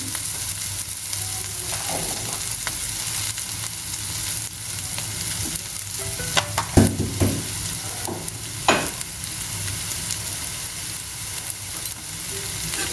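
Dried fish with potatoes and bean seeds frying in a pan, a loud continuous sizzle under repeated scraping and clattering as the mixture is stirred, with a few sharper knocks of the spoon.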